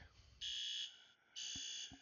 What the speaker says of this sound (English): which is going to initiate our second stage alarm automatically, and we go into a full building evac